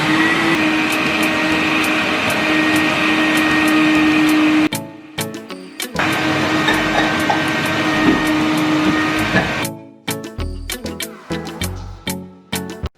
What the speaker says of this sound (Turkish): Böyle kapatıyoruz ve süpürgemiz kullanıma hazır.